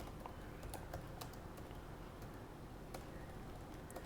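Rapid, steady clicking of a computer keyboard as a command is typed, close and fairly quiet over a low room hum, with no voices.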